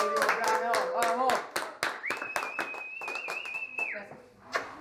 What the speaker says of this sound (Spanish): Un aplauso para la que termina el último plano.